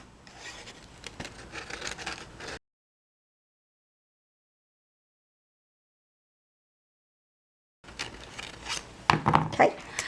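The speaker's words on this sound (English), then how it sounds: "I'm going to take my scissors and I'm just going to trim around to remove the excess of the tulle" Scissors snip and rasp around the edge of tulle on a handmade Halloween card, close crinkly cutting in two bursts separated by a long silent gap, the second burst louder.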